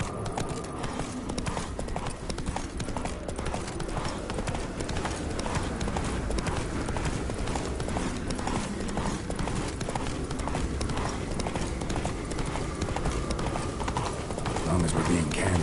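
Roach, a horse in The Witcher 3 video game, gallops in a steady rapid clip-clop of hooves that runs throughout, with people talking over it.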